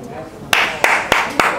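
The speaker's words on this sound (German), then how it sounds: "Applaus!" A small group at a boxing weigh-in event claps, four or five sharp, loud claps spaced a fraction of a second apart, ending in a brief burst of applause, with voices talking underneath.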